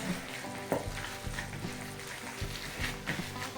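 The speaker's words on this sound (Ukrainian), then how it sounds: "Будемо формувати кульки і підсмажувати до золотистого кольору на сковорідці." Meatballs sizzle and crackle steadily in a hot frying pan, with occasional soft scraping knocks, close and continuous.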